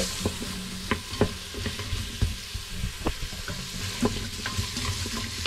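Chopped large onions sizzle steadily in a pan for soup while a spoon scrapes and stirs them in repeated sharp clinks and knocks, close by and with no talking.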